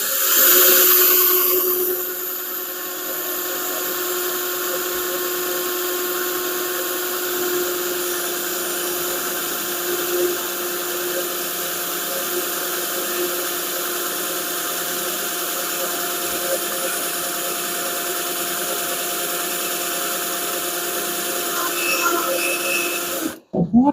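A power drill bores through the steel trunk lid of a Plymouth Duster while fitting gas lift struts, a loud continuous whine held steady for about twenty seconds before cutting off abruptly at the end.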